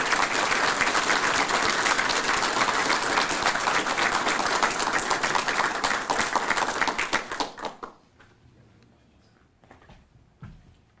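Audience applause at the Secretary of Defense Freedom Awards ceremony, a dense, steady wave of clapping for about eight seconds that quickly dies away, leaving scattered faint claps near the end.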